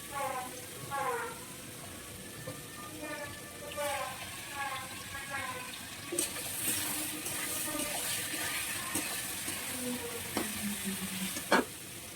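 Potatoes sizzle in a frying pan in a home kitchen, a continuous close hiss with stirring scrapes and small pops, while a person talks over it at the start.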